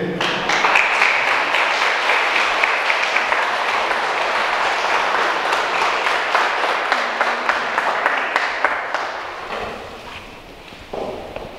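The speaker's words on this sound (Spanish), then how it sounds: "vamos a dar un fuerte aplauso a Yamilet." Loud, dense applause from guests at a quinceañera ceremony, continuous close clapping that thins and fades toward the end.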